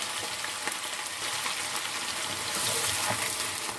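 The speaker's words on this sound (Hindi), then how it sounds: "ऑयल में हम प्याज ऐड कर देते हैं और प्याज को फ्राई कर लेते हैं" Onions frying in hot oil for a restaurant-style chicken degi korma, a steady close sizzle and crackle that holds throughout with no talking.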